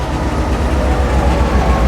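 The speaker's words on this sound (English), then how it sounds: "A train whistled somewhere from down the track, and our train pulled away." A train pulls away from an old outdoor station, a loud continuous low rumble with rolling mechanical rattle, close and steady throughout with no voices.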